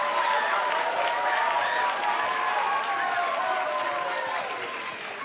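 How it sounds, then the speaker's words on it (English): A concert audience in a school band event applauds for a flute ensemble, a sustained wash of clapping with faint murmuring voices that tapers off near the end. "just another round of applause for Dr."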